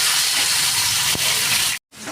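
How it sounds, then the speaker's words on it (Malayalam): Okra fries in coconut oil with a close, loud, even sizzle that hisses steadily and then cuts out abruptly for a moment near the end before resuming. "നമുക്ക് ഈ വെണ്ടക്ക ഒന്ന് ഫ്രൈ ചെയ്തെടുക്കാം."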